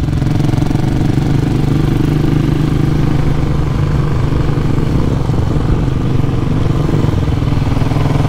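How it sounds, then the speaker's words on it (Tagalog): A steady, loud Cafe400 motorcycle engine with dual exhaust rumbles continuously with a deep throaty exhaust note, no talking over it. "Ganda nung tunog ng motor niya eh."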